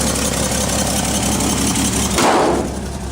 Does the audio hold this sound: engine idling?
yes